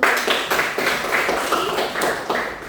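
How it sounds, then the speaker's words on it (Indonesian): Audience at a presentation giving a short burst of applause, a brisk run of close, fairly loud hand claps with no talk. "silakan beri aplaus"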